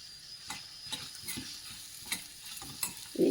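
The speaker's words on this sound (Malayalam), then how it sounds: "ഇനി ഇതൊന്ന് വറക്കണം." Dried chillies, curry leaves and grated coconut roast in a pan for sambar, a quiet dry sizzle punctuated by regular spatula scrapes and taps, close but faint, without speech.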